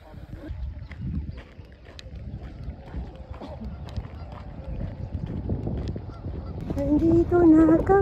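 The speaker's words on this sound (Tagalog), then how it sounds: "Daming pato." Many ducks by a lake making a busy chorus of honking quacks that grows louder toward the end, heard close, with people talking over the birds.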